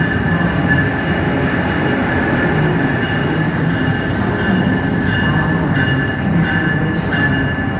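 An Amtrak passenger train rumbles steadily past at close range, with rail noise and occasional faint wheel squeals over a constant loud roar.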